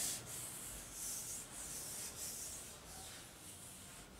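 Steady back-and-forth rubbing of 220 grit sandpaper across an Atari Video Pinball cabinet, with even strokes roughly every half second, close and alone.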